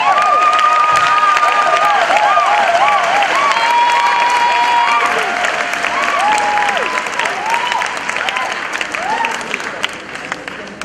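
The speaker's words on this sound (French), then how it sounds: "Acclamons pour Jésus-Christ." A church congregation applauds and cheers in praise during an evangelism service, a dense sustained clapping with voices and whistling tones mixed in, loud at first and gradually easing.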